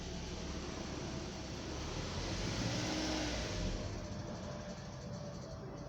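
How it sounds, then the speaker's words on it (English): A 2010 Subaru Liberty engine with an intermittent cranks-but-won't-start fault runs steadily close by, the throttle held slightly high, giving an even, unbroken drone with no talking. "Alright, car's running."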